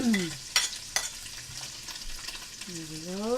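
Pork and onion frying in rendered fat for pork afritada, a soft steady sizzle with two sharp utensil knocks as the pieces are turned, plus faint tonal sliding sounds at the start and end.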